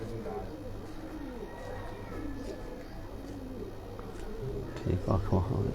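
A young Kamagar pigeon, about one and a half to two years old, coos softly and repeatedly on a rooftop, with low murmuring voices in the background.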